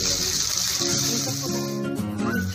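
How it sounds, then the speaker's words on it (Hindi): Half a glass of water poured into a pan while cooking Maggi noodles with tomato and green chilli, giving a brief close splashing pour that tapers off. "इसके अंदर आधा ग्लास पानी ऐड कर देंगे।"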